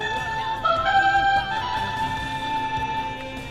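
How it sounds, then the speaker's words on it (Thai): An electronic Zyuranger DX Zyusouken toy sword slash effect, a tinny synthesized swoosh with sliding tones that rings on for a few seconds. "นี่เป็นเสียงฟันดาบนะครับ"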